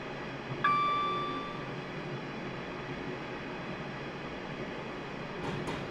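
A London Northwestern Class 350 electric train in Train Sim World 2021 coasts on the Rugby to London Euston route, giving a steady, close rolling rumble with a brief tonal whine near the start and no talking.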